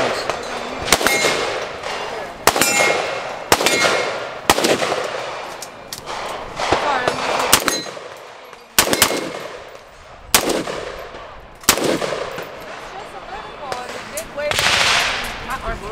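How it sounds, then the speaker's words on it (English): Single sharp rifle shots from a PSA JAKL with a standard AR-15 lower ring out outdoors, spaced a second or two apart, each loud crack followed by a brief echo, with occasional talk in between. "because you're letting everyone shoot it, right?"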